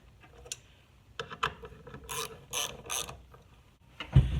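Bolts on a turbo compressor housing from a KC Turbo kit are tightened in short bursts of ratcheting and metallic clicks, close and intermittent, with brief pauses between turns.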